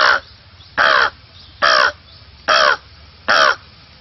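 A jungle crow calls five times in a steady rhythm, each harsh caw about a third of a second long, close and loud, with quiet gaps between.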